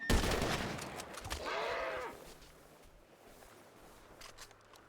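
A loud burst of gunfire in a video game roleplay, a quick volley of shots at the start followed by a ringing tail and a quieter second burst, then fading to low background noise.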